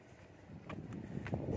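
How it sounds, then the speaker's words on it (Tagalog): Wind gusting over a mountain summit at dusk: a low, broadband rumble buffets the microphone and swells steadily louder through the moment, with no voices. "Pati lumalakas na yung hangin."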